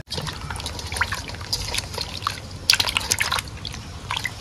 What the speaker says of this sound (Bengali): মাছ কিন্তু এখন গরম জলে ধুয়ে নিচ্ছি